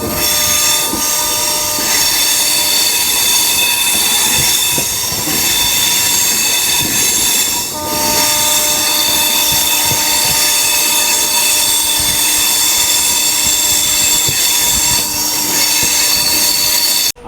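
Amrit Bharat Express passenger train on the Sealdah to Varanasi route running steadily along the rails, with a loud continuous rumble, wheel squeal and rhythmic clatter heard from on board, and no talking.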